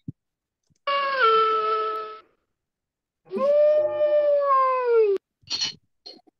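A wolf howls in two long, sustained wavering calls with a pause between them, followed by a few short yelps or barks, heard alone and fairly close against silence.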